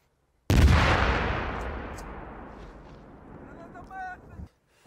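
A single loud gunshot booms at a Ukrainian military drill near the Belarus border, its sharp blast rolling into a long fading echo across open ground.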